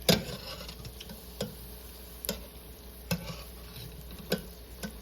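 Hush puppies frying in hot oil in a home kitchen, a faint steady sizzle with several sharp taps as a fork turns them, spaced about a second apart.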